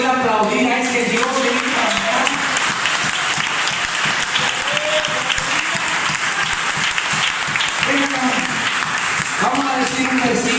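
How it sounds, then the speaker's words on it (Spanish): Church congregation applauding, a loud continuous round of clapping with a voice speaking over it at the beginning and again near the end. "¿Hay alguien que pueda aplaudir a ese Dios?"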